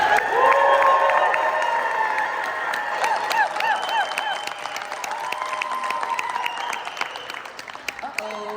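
An audience of real estate conference attendees cheers and applauds for a panel, a sustained burst of clapping and whoops that slowly thins out over several seconds.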